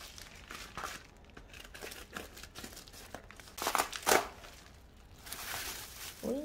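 Plastic bag packaging around memory gel nail wipes crinkles and rustles in irregular bursts, loudest in a couple of crisp handling moments near the end, close up with no talking.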